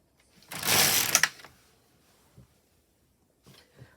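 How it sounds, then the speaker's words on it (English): A carriage sweeps across the needle bed of an LK150 knitting machine as it knits a row of mock rib on alternate needles: one loud close whooshing rattle about a second long, then a few faint clicks and knocks. "I just carry on knitting on these alternate needles."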